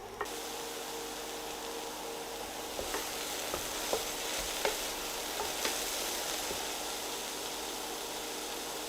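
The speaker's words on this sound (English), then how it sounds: "So a bit of oil in the pan, and we're going to brown off the aubergines." Aubergines brown in hot oil in a pan with a steady, even sizzle and a few sharp crackles and pops, close and continuous with no voices.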